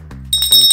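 A small hand bell rings in a bright, sustained burst of high metallic tones that starts partway through and stays loud to the end, following a low steady hum.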